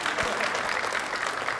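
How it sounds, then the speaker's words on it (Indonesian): Studio audience applause greeting the guest star on an Indonesian television talk show, a dense, steady wash of clapping from a crowd filling the whole short moment. "tepuk tangan buat bintang tamu kita malam hari ini."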